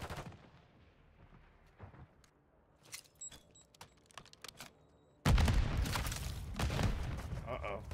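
Gunfire in Call of Duty Modern Warfare 3 on PC: a few sparse sharp reports, then a loud dense burst of shots near the end, with a voice talking over the quieter stretch.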